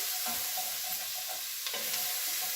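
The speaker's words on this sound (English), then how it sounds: "I'm going to stir this around for a minute until we get all the bits off the bottom" Onions and celery stirred around a hot pot for a whiskey pot roast, a steady close sizzle with scraping spoon strokes loosening browned bits from the bottom, no talking.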